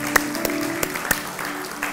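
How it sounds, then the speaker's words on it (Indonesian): Church congregation clapping during an Easter Sunday service, a burst of sharp individual claps spaced through two seconds, fairly close and loud. "Berikan tepuk tangan untuk Tuhan Yesus"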